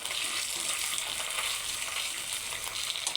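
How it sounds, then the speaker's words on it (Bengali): Onion, ginger and garlic fry in hot oil, making a continuous close-up crackling sizzle that stays even throughout with no voices. "পরিমাণ মতো তেল দিয়ে পেঁয়াজ ভেজে নেব।"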